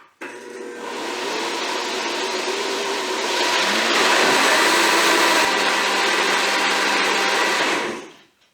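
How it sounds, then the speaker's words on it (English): A countertop blender whirs steadily as it blends gluten-free flatbread batter. The loud, continuous motor drone runs for several seconds, rises slightly in the middle and then cuts off abruptly, with no talking. "On a regular blender, I would just do about 30 seconds, and then I jam it down and then do another 30 seconds."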